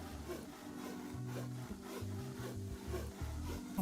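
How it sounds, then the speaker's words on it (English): Wood being sawn into planks in the video game BitCraft Online, a repetitive back-and-forth rasping saw stroke with a low tonal drone, rhythmic and steady at a moderate distance. "Now, I'm sawing the wood again, gonna turn it into planks."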